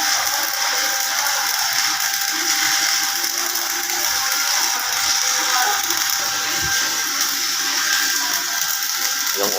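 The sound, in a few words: stick welding with an Esab Rogue ES 200 welder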